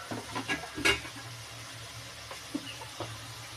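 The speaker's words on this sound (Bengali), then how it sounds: "দেখো ঝোলটা আমার ফুটে এসেছে" Fish curry gravy with tomato and mustard paste bubbling and sizzling in a pan, a quiet steady simmer with a few clinks and stirring noises early on, and no talk.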